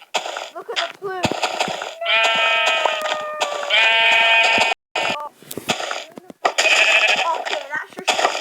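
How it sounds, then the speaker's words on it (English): Sheep bleating in a multiplayer video game, several loud wavering bleats in close succession with short gaps, over players chatting and a brief spoken interjection. "Okay, that's just sheep."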